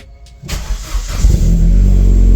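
A VXR performance car fitted with a Brembo big brake kit cranks and fires up after a brief quiet moment. The engine catches and settles into a loud, rumbling idle close by.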